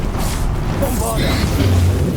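Booming blast of the Bombarda explosion spell during a boss fight in Hogwarts Legacy, a deep rumbling impact with crackling debris, heard under a shouted voice.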